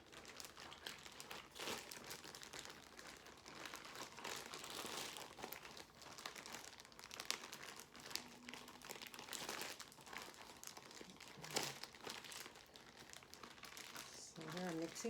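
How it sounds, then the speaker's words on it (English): Hands kneading bread ingredients through the outside of a sealed plastic bag, giving a steady, close crinkling and crumpling of plastic that runs throughout with small irregular bursts, while a person talks over it. "you're going to mix from the outside of the bag with your hands"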